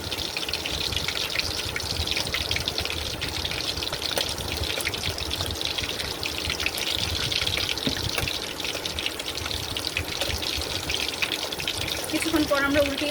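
Chicken pieces fry slowly in oil over low heat for a crispy chicken dish, giving a steady, even crackling sizzle that carries at a constant level from start to finish.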